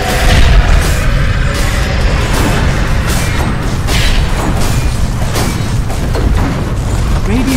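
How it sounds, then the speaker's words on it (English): A Dota 2 barracks collapsing: a loud, dense rumbling crash of battle noise with booms and debris that carries on steadily throughout, with a game announcer voice faintly present. "Radiant's middle barracks has fallen."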